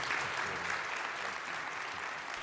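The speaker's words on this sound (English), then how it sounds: "please join me in a round of applause for Senators Lankford and Bennet." An audience at a policy event on immigration gives steady, dense applause for two senators, a continuous wash of clapping throughout the short stretch.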